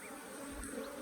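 A continuous close buzz of Africanized hybrid honey bees swarming over an open hive in southern Arizona, with a few individual wingbeats sweeping nearer and away.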